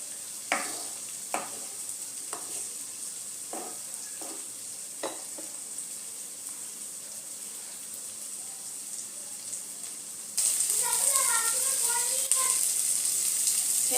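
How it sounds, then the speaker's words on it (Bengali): Pointed gourd curry is stirred in a pan with a spoon. Sparse scrapes and taps sound over a steady low sizzle, and a louder, brighter frying hiss with bubbling takes over near the end. "নাড়াচাড়া করে নেব।"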